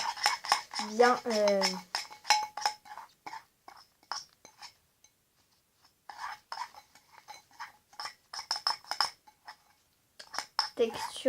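A utensil clinks and scrapes against a bowl while mixing a homemade body scrub tinted with food colouring, giving soft, irregular taps and stirring sounds mixed with close, whispery speech.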